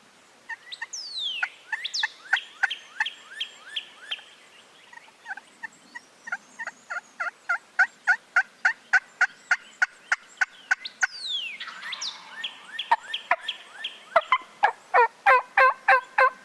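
Wild turkeys gobble and call close by in repeated rapid bursts, with a rhythmic series of sharp, clucking notes building toward the end.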